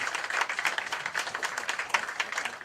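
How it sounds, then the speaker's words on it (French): Women at a French-speaking community workshop applauding together, a steady patter of many hands clapping throughout, moderately loud and unbroken, with no talk over it. "je demanderai à toutes les femmes de vous applaudir"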